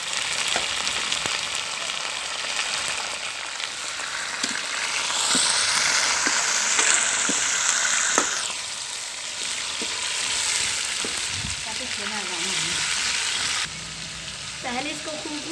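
Chicken sizzling and frying in a kadai with browned onions, a steady close crackle with scraping stirs and clinks of a spoon against the pan throughout, with a brief hiss of steam near the middle.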